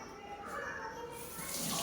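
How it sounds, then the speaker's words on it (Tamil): Water pours steadily for tamarind water while a fish curry is being made, a continuous close splashing wash that keeps up from start to end without pause. "நம்ம தேவைக்கு தண்ணி ஊற்றி இதில் இன்னும் கொஞ்சம் புளி தண்ணி கரைக்கணும்"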